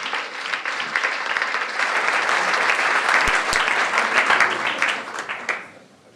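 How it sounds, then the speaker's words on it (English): An audience at an SOS Children's Villages academy event in Innsbruck claps together in dense, sustained applause that builds, holds for several seconds, then fades out. "So applause for all of you who are here."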